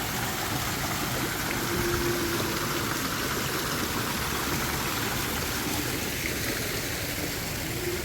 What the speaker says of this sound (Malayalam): ഇവിടെ ചെറിയൊരു വെള്ളച്ചാട്ടം ഉണ്ട്